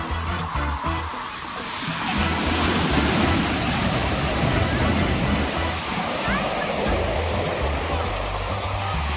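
Ocean waves washing onto a crowded beach at Carlsbad, a steady loud roar of surf with a swelling rush in the middle and low wind rumble throughout.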